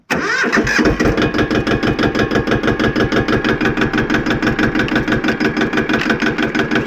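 A tractor engine starts and then runs with a steady, pulsing mid-pitched beat as the throttle is opened gently, loud and close, with no voices over it.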